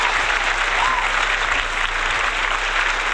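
A crowd claps in a steady, unbroken wash of applause at a political gathering, loud and near throughout over a low background hum.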